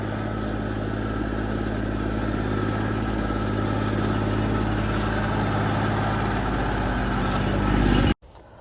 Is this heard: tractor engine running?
yes